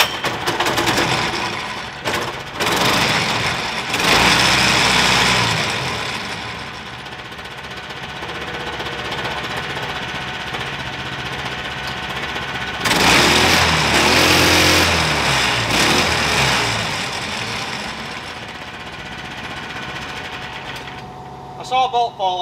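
Longtail mud motor (Mud Skipper Retriever) engine running with a new clutch fitted, a loud steady mechanical drone that surges and swells partway through, with people talking under it.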